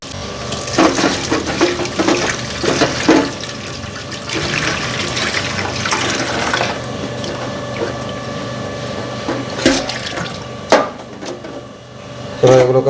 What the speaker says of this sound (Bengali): ধনে পাতাগুলো ধুয়ে নিচ্ছি।